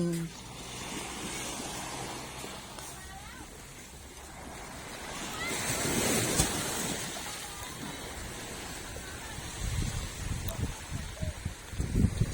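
Ocean surf at Laem Mae Phim beach in Rayong, Thailand washes in steadily with gusty wind noise, swelling midway and rumbling louder toward the end.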